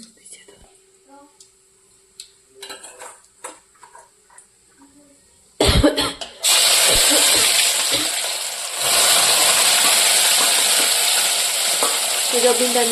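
Okra and tomato tempered in hot oil in a village home kitchen: a quiet start with faint whispers and small noises, then a sudden loud, sustained sizzle that keeps frying close by.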